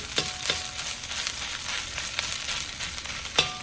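Crab meat, egg and rice being stir-fried together for Thai crab fried rice, giving a steady close sizzle with a few sharp scrapes of a utensil breaking up the food.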